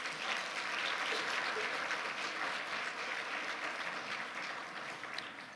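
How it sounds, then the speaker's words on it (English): Audience applause at an academic conference on climate and nature, a steady, faint wash of many hands clapping that holds evenly throughout and tapers slightly at the end. "those folks should get a nice round of applause for the work they did"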